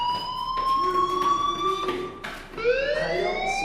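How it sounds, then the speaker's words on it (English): A fire alarm rings inside a school in the Life Is Strange video game, a steady electronic tone sliding slightly in pitch with a short break before resuming, loud and unaccompanied by talk. "Hey, do you hear that fire alarm?"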